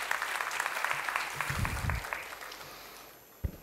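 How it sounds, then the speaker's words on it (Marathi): A seated audience at a university foundation day function claps in welcome, dense applause that holds steady, then gradually thins and fades toward the end. "आपण जोरदार टाळ्या वाजवून स्वागत करूया."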